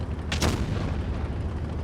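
A single heavy tank cannon shot from World of Tanks Blitz, an AMX 50B battle, booms out as a short broadband blast over a constant low engine and battle rumble, with no other voices.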